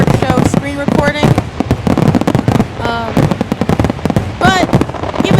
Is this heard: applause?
no